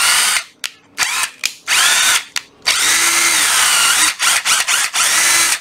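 A Ryobi 12V cordless drill runs in short bursts, its motor whine stopping and restarting and then holding longer, climbing and dropping in pitch between fast and slow speed settings, close and loud with no talking.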